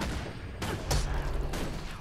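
A turret fires in the Guild Wars 2 video game, sounding as a few quick bursts of gunfire that cut in and out over a low rumbling game background, with no speech.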